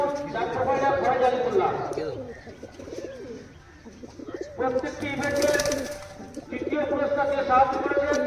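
Teddy pigeons coo in a loft in repeated low, throaty bursts, while someone talks over them close by.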